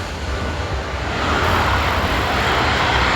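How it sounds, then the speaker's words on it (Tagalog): An airplane at an airport produces a broad, loud engine roar that builds and stays strong, heard from close by outdoors. "Ang aeroplano."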